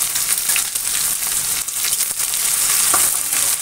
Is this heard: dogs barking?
no